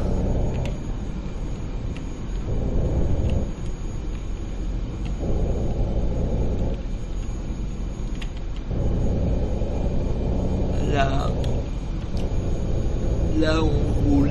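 Bus engine rumble in Fernbus Simulator, a steady low drone that swells and dips in blocks as the coach cruises along, with a brief whistling tone near the end and no speech over it.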